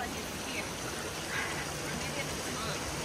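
Small stream of water on a rainy hiking trail, a steady broadband rush and trickle heard close while hikers cross, with faint talk in the background.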